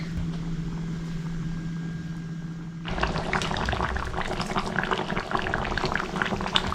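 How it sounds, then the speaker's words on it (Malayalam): Stingray fish curry in the Kerala style, made without coconut, simmers in a pot. A faint hum gives way to a sudden bubbling, crackling boil that stays busy and close to the end. "അപ്പോൾ ഇത് നന്നായി കിടന്ന് തിളച്ച് വേവട്ടെ."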